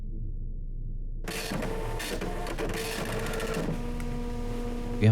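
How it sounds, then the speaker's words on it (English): Printer whirring and clattering inside a video game, a steady mechanical run with a rapid rattling feed that starts after a brief near-silence and carries on alone, loud and continuous. "you have enough ink on this printer?"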